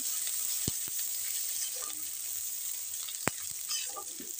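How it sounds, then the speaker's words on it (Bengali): Quiet, continuous sizzling of spices, grated ginger and green chilies frying in hot oil, broken by a few sharp clicks and light scraping as the pan is stirred. "এইগুলোকে একটু ভালো করে তেলে নাড়াচাড়া করে ভেজে নিতে হবে।"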